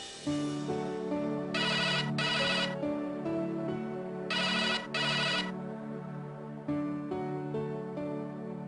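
A telephone rings in an indoor domestic scene, its electronic ringtone sounding in two paired bursts, then again after a pause, over a steady tonal background of music with no talking.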